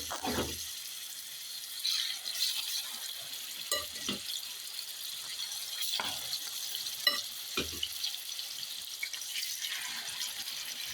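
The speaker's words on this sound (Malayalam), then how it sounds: "ഓയിൽ ചൂടായി വന്നിട്ടുണ്ട്. അതിലേക്ക് നമുക്ക് ചിക്കൻ ഇട്ട് കൊടുക്കാം." Chicken pieces frying in hot oil in a pan for homemade shawarma, a soft continuous sizzle broken by several stirring scrapes and brief clatters, close but fairly quiet, without speech.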